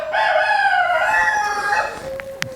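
A rooster named Buddy crows in a barn, one long, loud, close cock-a-doodle-doo that rises and trails off, followed by a couple of short clucks and a faint knock.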